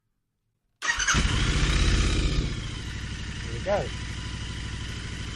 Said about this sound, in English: if I start the bike up now